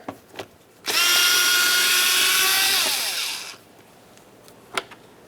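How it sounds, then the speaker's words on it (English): A power tool whirs loudly for nearly three seconds as it removes two 10mm bolts inside the front door of a 2007-2012 Nissan Versa during a window motor replacement, framed by a few faint clicks. "we can gain access to our two 10mm headed bolts in this area. Remove the pair."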